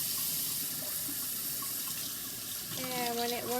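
Water runs steadily from a kitchen tap as it warms up for making cinnamon mint tea, a continuous close splashing hiss into the sink that grows brighter and more ringing toward the end.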